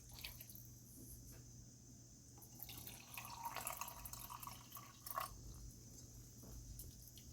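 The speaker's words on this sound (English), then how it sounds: "now I'm going to add some water so it could go in the stove and cook" Water poured into a pot of jerk chicken before it goes on the stove, a soft, fairly quiet liquid splash and trickle over steady background hum, with no talking.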